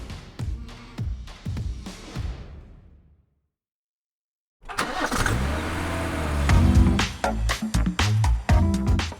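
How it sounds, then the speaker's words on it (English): A car engine starting as a sound effect: rhythmic cranking that dies away, a brief silence, then the engine catches and settles into a loud, throbbing idle with revving pulses. "Start your engines."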